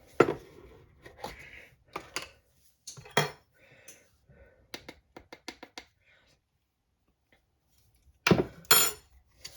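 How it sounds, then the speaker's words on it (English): A metal measuring spoon is pulled out for baking powder and soda, giving a few sharp clinks and rattles, close and fairly quiet, amid light kitchen handling noises. "I'm going to get a measuring spoon here."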